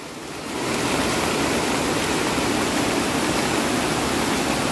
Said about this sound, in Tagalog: Laki po ng baha o.